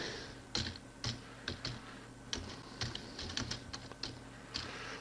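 Quiet, close keystrokes on a computer keyboard, an irregular patter of light clicks in short bursts with brief pauses between them, no voices.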